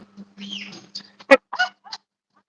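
A chicken gives a handful of short, abrupt squawking calls with gaps of silence between them, close and fairly clear.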